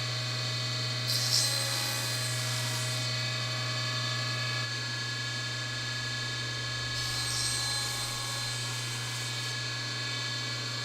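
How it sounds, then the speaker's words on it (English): Table saw blade-tilt mechanism being cranked to an angle, a steady mechanical ratcheting whir under the hum of machinery, close and continuous with two slightly louder bursts. "Once again, I've tilted the blade"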